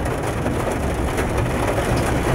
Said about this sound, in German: Das ist ja, als hätte der Regen sich gerade vom Donner erschreckt.